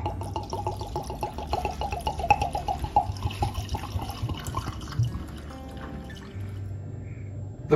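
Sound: pouring bourbon into a glass over charred oak cubes

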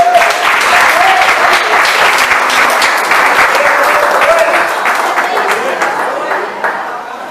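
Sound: congregation clapping

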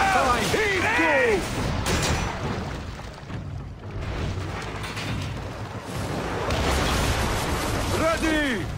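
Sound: ship cannons firing in Assassin's Creed Origins video game naval battle

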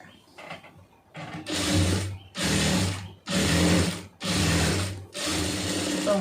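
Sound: sewing machine stitching a round neck

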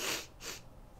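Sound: sniffling

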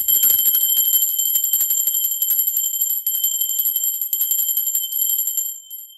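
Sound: bell ringing

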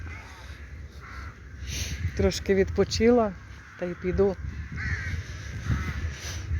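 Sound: crow cawing

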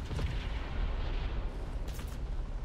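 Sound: flak guns firing in War Thunder video game

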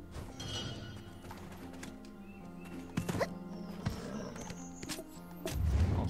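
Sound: horse hooves clip-clopping in the video game Black Desert Online

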